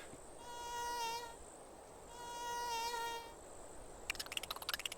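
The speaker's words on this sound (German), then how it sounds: "das ist eine Heuschrecke" Grasshopper in a video game giving two drawn-out buzzing chirps, each rising and fading, followed by a quick rapid clicking burst, all faint against quiet background noise with no voices.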